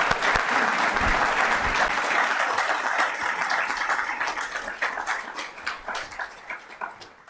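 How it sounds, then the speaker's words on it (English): Audience at a town council meeting applauding a proclamation, a dense burst of clapping that starts loud and gradually thins and fades into scattered claps, with a few faint voices underneath. "How about a round of applause for that proclamation?"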